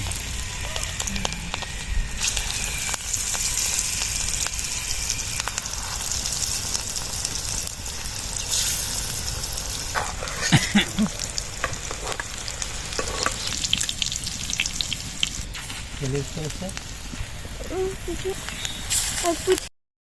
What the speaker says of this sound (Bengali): এগুলো আমার ভাজা হয়ে গেছে। মাশরুম আর বাঁধাকপির পকোড়া